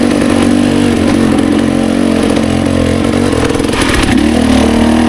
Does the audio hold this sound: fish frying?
no